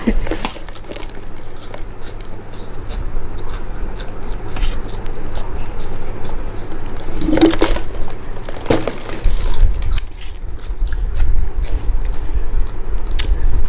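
Crunchy chewing of cucumber close to the mic, wet crackly bites repeating steadily over a constant low background hum, with a couple of sharper crunches in the middle.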